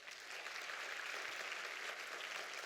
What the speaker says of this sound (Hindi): बजाओ ताली अब इस बात पे।